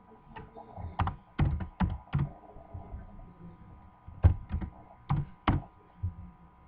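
Typing on a computer keyboard while entering an activation code: scattered bursts of clicky keystrokes in short irregular clusters, close and fairly quiet, with a low hum beneath and no talking.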